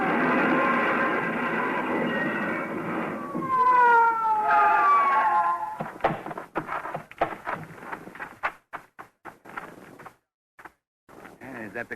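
A wailing police car siren rises and falls for several seconds under a running engine, then gives way to clattering and knocking sounds with brief pauses.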